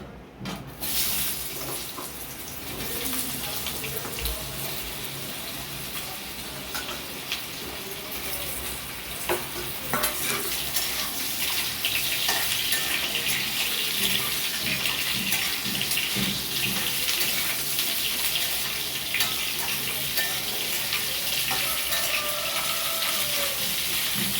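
Potatoes fry in hot oil with nigella seeds in a steady, hissing sizzle that runs on without a break and grows slightly louder after the first few seconds.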